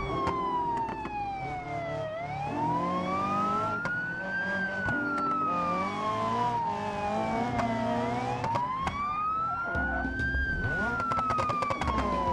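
Police car siren in the BeamMP driving game during a parking-lot chase, a loud, steady wail rising and falling in slow cycles over a running car engine, continuous and close.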